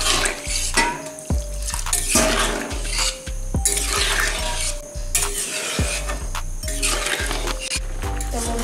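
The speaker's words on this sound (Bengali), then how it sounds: "এখন আমি জলটা দিয়ে দিলাম।" Water is poured into a pot of curry made with chal kumra and shidal fish, giving a loud, steady splashing and bubbling rush with clanks of metal throughout, close up and without talk.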